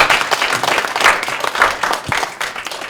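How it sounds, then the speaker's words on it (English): A university audience applauds a Rinpoche after a Q&A session, steady dense clapping from many hands, fairly loud and close, with a few brief voices. "And can we give a round of applause to the Rinpoche one last time?"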